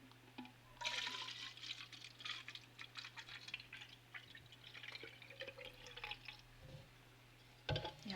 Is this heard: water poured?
yes